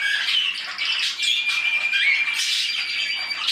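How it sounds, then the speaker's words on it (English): A pet canary in a home bird room sings a continuous, bright warbling song with trills and high whistled notes, close and fairly loud, with no talking. "Let's get my Canary singing."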